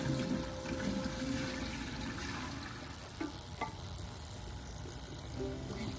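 Salt water being poured in, running steadily at a low level, a soft continuous trickle with a few faint knocks, fairly quiet throughout.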